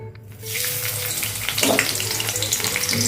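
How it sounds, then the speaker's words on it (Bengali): Onion dropped into hot mustard oil in a pan bursts into a loud, crackling sizzle after a short quiet moment, the hiss staying close and steady throughout. "তেলে বিশেষ কিছুই ফোড়ন দিচ্ছি না একবারে আমি পেঁয়াজটা দিয়ে দিচ্ছি এবারে"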